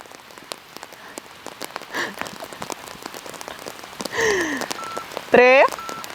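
Rain falls steadily on a surface as a constant close patter throughout, while a few brief whistling and chirping tones rise over it near the end.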